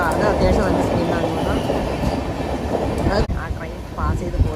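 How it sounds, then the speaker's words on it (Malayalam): A train rushing through a station without stopping, heard nearby as a loud, continuous rumbling roar with rhythmic wheel clatter that eases slightly toward the end; no speech is heard. "ആ ട്രെയിൻ പാസ് ചെയ്ത് പോയിട്ടുണ്ട്."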